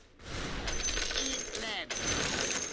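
Rapid gunfire in the Warframe video game, with dense bursts of shots and mechanical clatter filling the whole stretch at a steady loud level, broken only by a brief dip.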